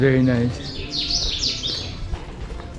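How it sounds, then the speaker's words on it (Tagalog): Birds chirp and tweet in quick bright bursts in Marrakesh, fairly close, while a person speaks briefly at the start. "Narinig ko pa yung huni ng ibon."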